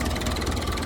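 International 276 tractor, an English-built farm tractor, its diesel engine running steadily with a low, even rumble, close and continuous with no voices.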